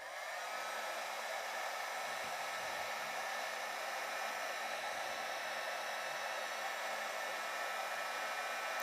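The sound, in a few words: heat gun fan noise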